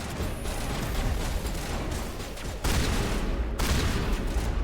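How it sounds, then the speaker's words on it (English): Shotgun blasts in the video game Mass Effect 1, loud and dense, with a sustained roar of gunfire and a sharp new burst partway through, then continuing heavy fire with no talking. "We're gonna try a shotgun."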